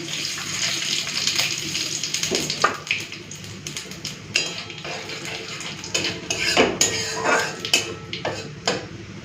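A utensil stirs dried red chillies and panch phoron (five-spice) in hot oil in a pan for a Bengali fish-head chorchori, giving scraping clinks and taps over a steady hiss, close by with no talk.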